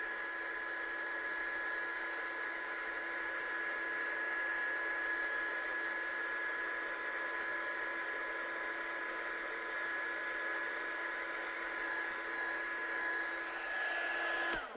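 A heat gun blows steadily while heat-setting embossing powder on a handmade card, a constant close airy roar with a thin whine running unbroken until it cuts off at the very end.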